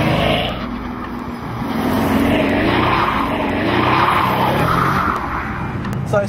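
Pagani Huayra supercar engine roaring at high revs as the tyres break traction, a loud, continuous surging growl with rising and falling pitch and some tyre noise.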